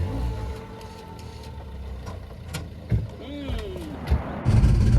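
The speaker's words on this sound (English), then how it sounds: "this is what a prop shaft clashing against an exhaust system sounds like" On a Fiat Panda 4x4, the prop shaft clashes against the exhaust system, producing a few irregular metallic knocks and scrapes over an idling engine rumble, ending in a louder burst of engine noise.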